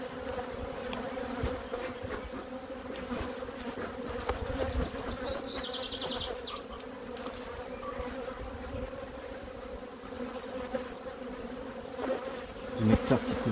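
A productive colony of black honeybees drones steadily throughout, a dense close buzz of many bees with individual insects whining past the microphone, and no voices.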